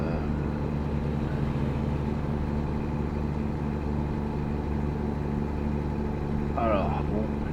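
Small truck engine in American Truck Simulator, a steady low drone running throughout with a brief burst of another sound near the end.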